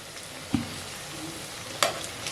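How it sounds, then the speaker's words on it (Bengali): Pakora fritters fry in hot oil, a soft steady sizzle with two sharp stirring clinks, close and moderately loud over a couple of seconds. "আমার ভাজা প্রায় হয়ে গেছে"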